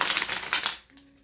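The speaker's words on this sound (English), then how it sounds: "let's give this deck a couple of shuffles in here" A tarot deck is shuffled in a quick burst of dense crisp card riffling, close and moderately loud, before it breaks off into near silence.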